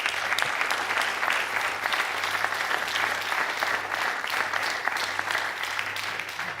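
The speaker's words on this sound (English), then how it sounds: "Last round of applause for joining this charter or this joint statement." Dense, energetic applause from a room full of people at a space and climate change conference, sustained and even throughout with no pauses.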